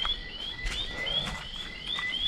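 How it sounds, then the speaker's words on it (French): Frogs croak and chirp in a jungle in a Guadeloupe national park, repeated short high calls rising over a quiet damp background with faint rustling. "des grenouilles, évidemment,"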